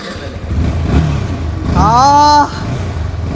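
A modified Yamaha R15M motorcycle engine revs up briefly, its pitch climbing in a short rising whine before dropping back to a low idle rumble.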